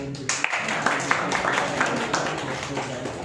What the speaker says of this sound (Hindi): भाई के लिए ताली दोबारा से।